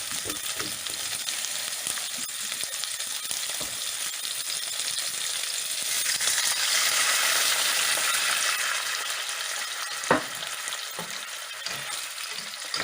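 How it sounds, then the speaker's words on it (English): Water poured into a hot pan of salmon escabeche sets off a loud, steady sizzle that swells midway, with a few utensil clinks and a sharp knock near the end. "That was water she just added."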